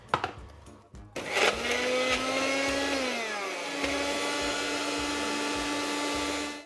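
An electric blender mixing a thick avocado dip, a short clatter then the motor roaring up to a loud steady whine that dips in pitch as it labors, close and continuous.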